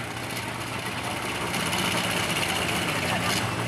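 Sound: tractor pulling tractor engine idling

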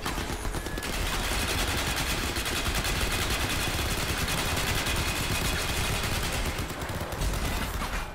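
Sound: incoming gunfire in Crysis 3 video game

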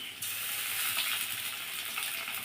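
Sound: ginger garlic onion cumin dried chili paste frying in pan

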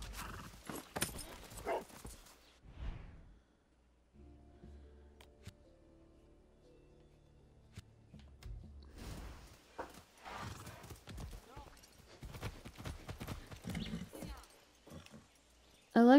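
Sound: horse hooves clip-clopping in video game Far Cry 6

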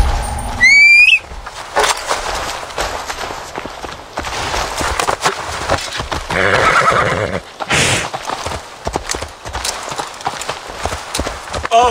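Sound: horse neighing and galloping in video game Assassin's Creed Valhalla

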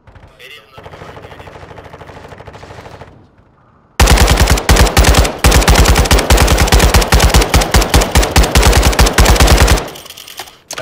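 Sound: machine gun covering fire in a video game

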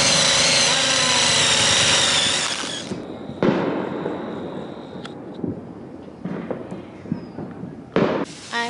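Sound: fireworks exploding outside

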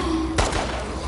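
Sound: headshot gunshot in The Last of Us Part II video game

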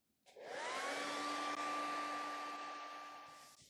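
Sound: hair dryer drying a watercolor painting

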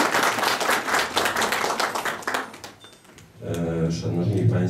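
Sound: audience applause at exhibition opening

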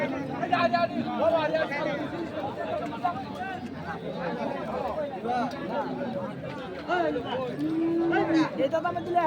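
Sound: cattle mooing at a livestock market

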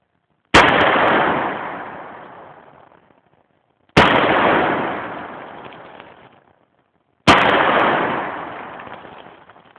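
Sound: revolver gunshots with hot loads

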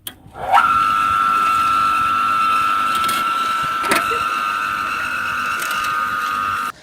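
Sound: homemade electric cultivator motor with worm gear reducer running

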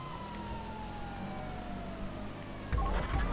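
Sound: police car siren in video game

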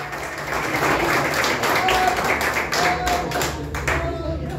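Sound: applause, clapping

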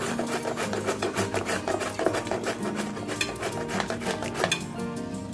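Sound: grating carrot with a hand grater

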